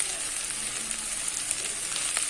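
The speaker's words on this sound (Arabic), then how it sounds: "ان انا هنزل بالبصل وهدبله في الزبده" Onions fry in butter in a pan with a steady, close sizzle, a bright continuous crackle with occasional louder pops and faint stirring.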